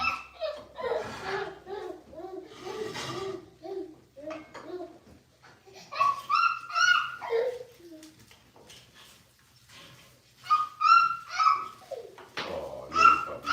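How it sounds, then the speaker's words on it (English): A puppy whimpering and giving high yelping barks in short bursts, mixed with nearby talking and laughter, the cries rising and falling close by. "Oh, little puppy."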